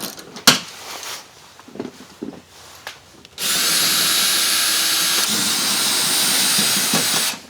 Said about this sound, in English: using an E14, that's an external Torx, we'll remove the bolts holding the seat down